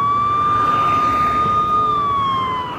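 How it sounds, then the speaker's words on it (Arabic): An ambulance siren wails steadily in a long sustained tone that dips slightly near the end, loud and fairly close, with no talking. "صوت اسعاف صوت اسعاف"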